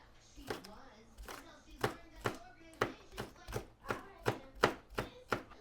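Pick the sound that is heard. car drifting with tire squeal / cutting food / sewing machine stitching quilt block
cutting food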